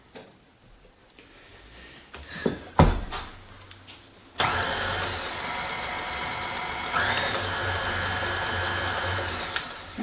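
An electric hand mixer with beaters whirs steadily through almond cake batter, starting abruptly after a few clicks and knocks and then holding a constant, fairly loud motor hum.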